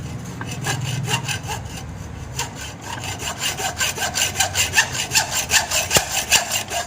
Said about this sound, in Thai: ผมจะใช้เลื่อยตัดเหล็กตัดออกนะครับ